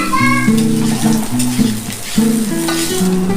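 Boiled chickpeas tossed into grated coconut already browned in a pan for a vegetarian taro-leaf dish, with a steady sizzle running under prominent tonal background music throughout.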